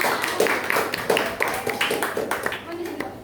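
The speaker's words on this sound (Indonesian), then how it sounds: "tepuk tangan buat temannya" Children clap for a classmate in a primary school classroom, a run of quick, uneven claps heard close by and mixed with chatter and voices.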